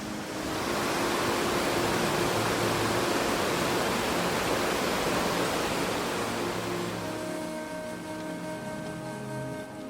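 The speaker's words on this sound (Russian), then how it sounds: "Водопад Джогини все ближе." Jogini waterfall near Manali, India, roaring as a steady, loud broadband rush of falling water that fills the whole stretch, with faint tonal hum entering toward the end.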